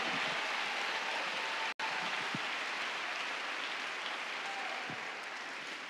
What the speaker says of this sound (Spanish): Déselo fuerte aplauso al Señor.